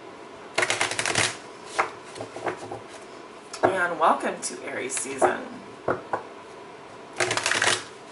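Tarot cards shuffled by hand in a few bursts of brisk riffling and flicking, separated by a calm voice talking between and over them.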